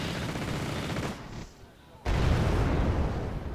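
Anti-aircraft guns in Wargame AirLand Battle fire a steady roar of dense, booming shots, briefly dropping away before resuming at full strength, with a voice talking underneath.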